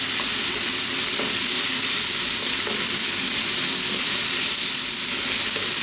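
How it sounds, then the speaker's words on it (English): Beef with onion stir-frying in a wok over high heat: a loud, continuous, hissing sizzle with faint stirring knocks beneath it, close up and without speech. "staying on this high heat. Let's go for another 2 to 3 minutes. Stirring pretty much all the time now."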